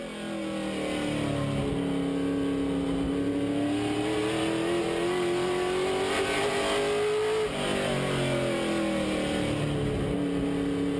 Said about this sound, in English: You can really hear how Spoonmore has to get out of the gas entering the corner.